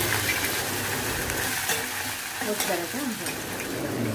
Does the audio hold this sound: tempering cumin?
yes